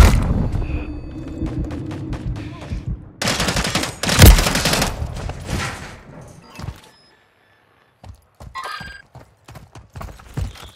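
Gunfire in Call of Duty: Modern Warfare III, with rapid bursts of shots and loud impacts in the first half, then silence and scattered sharper cracks near the end.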